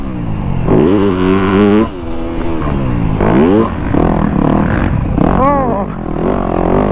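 A brand-new 2025 Yamaha YZ250F dirt bike engine is heard during a ride. It drones loudly and continuously, rising and falling in pitch as the throttle changes, with the rider's voice mixed in over it.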